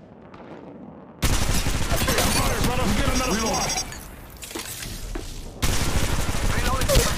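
Rapid bursts of gunfire crackle in Apex Legends Mobile: dense automatic fire loud and close, a brief lull with scattered shots, then another sustained burst, with a game voice and effects mixed in.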